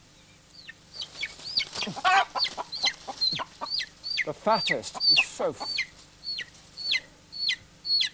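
Small chicks give rapid, high piercing distress peeps in repeated bursts, close and loud, with a person talking softly over them at times.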